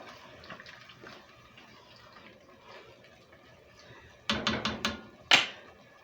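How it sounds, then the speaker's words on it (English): About eight cups of water poured into a soup pot for Italian pastina soup, a soft steady trickle building into louder splashing bursts near the end, close and with no talk. "we're going to put our water in here. I'm going to do about 8 cups."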